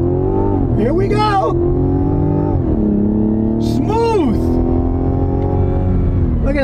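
A 2024 Mazda CX-90 hybrid launches at a drag strip, its engine note a dense, steady drone that climbs and swells as it accelerates. A voice briefly speaks over the engine.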